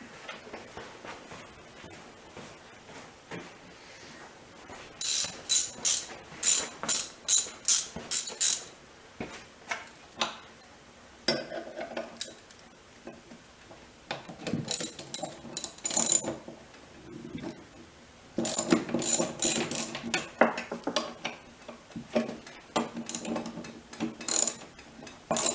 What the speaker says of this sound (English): Just gonna go get my ratchet.